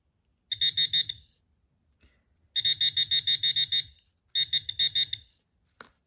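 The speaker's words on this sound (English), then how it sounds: "mark whichever point the pinpointer beeps first consistently" A Garrett Pro Pointer pinpointer held over a New Zealand 10-cent coin gives three bursts of rapid, loud, high-pitched electronic beeps, each a quick pulsing series with short pauses between bursts, and a faint click at the end.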